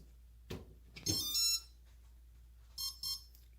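RadioMaster TX16S radio transmitter with Hall sensor gimbals gives short electronic beeps during throttle calibration: one beep, then a pause, then a closely spaced pair, clear and moderately loud over a quiet background.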